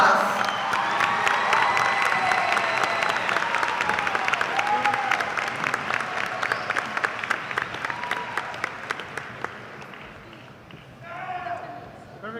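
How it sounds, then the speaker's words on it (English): Large crowd applauding and cheering at a high school graduation ceremony, dense sustained clapping with shouts that gradually thins and fades toward the end. "Let's give our top scholars a well-deserved round of applause."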